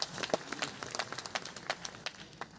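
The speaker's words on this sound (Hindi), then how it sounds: "सबसे पहले अपने लिए ताली बजा दीजिए।" Audience applause in a hall during a Common Service Centre (CSC) session in Chhattisgarh, a light scattering of claps with sharp individual hand strikes, moderately distant and modest in volume, fading gradually.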